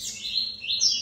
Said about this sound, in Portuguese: ele vai ficar chamando e cantando para saber onde está a fêmea